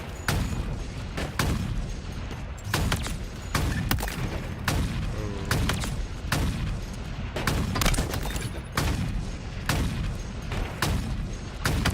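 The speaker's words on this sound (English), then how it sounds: "Just shooting walls." Rapid bursts of gunfire in a Halo Pro League match between OpTic and Envy, sharp loud shots in quick clusters with brief gaps, steady and close throughout.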